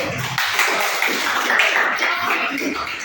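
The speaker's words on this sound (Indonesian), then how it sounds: "tepuk tangan untuk si Mapel dulu." Applause from a classroom full of people, steady and dense with overlapping claps, running throughout.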